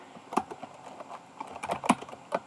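Code being typed on a computer keyboard in Dart, soft, irregular key clicks in short clusters, close and fairly quiet, with no voice.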